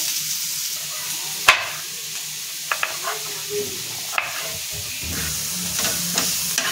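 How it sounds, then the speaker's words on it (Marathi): Onions frying with salt in a pan for egg biryani, a steady loud hiss of sizzling oil broken by a few clinks and scrapes of stirring, close by, with no talking. "कांदा आपला पटकन भाजला जाणार आहे"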